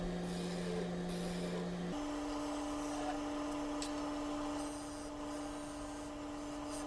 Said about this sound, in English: using a skew chisel to define the edges of the foot to make sure that the chuck sits in there nice and secure